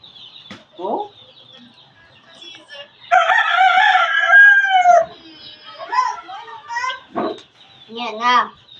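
Chickens cluck and a rooster crows in a long, loud call at close range, followed by shorter squawks, with people talking nearby.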